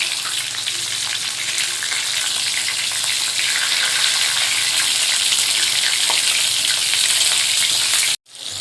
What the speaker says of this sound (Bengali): পটলগুলো এইভাবে আমি ভেজে নেব হালকা করে